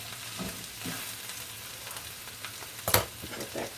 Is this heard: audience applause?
no